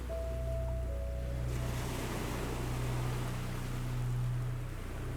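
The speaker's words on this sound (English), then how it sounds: "leaving only the sound of your own breath and the gentle murmur of the sea" Gentle sea waves wash in a soft, continuous murmur, with a faint low hum and a light rush of surf rising and falling, calm and unbroken by voices.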